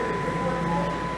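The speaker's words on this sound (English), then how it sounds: "we are here at Davisville subway station" Subway station ambience at Davisville station in Toronto late at night during a service disruption, a steady low rumble with a faint sustained electrical tone, no clear voices.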